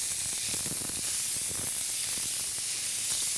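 Shrimp sear in a hot skillet with a loud, close, constant hiss and sizzle, cooked in a small batch for spicy aglio olio, with no voices over it.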